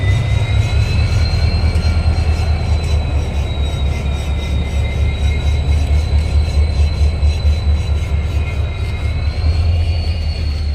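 A train rolls past near a station, a loud, steady, close rumble of wheels on rail with a sustained high metallic squeal running throughout.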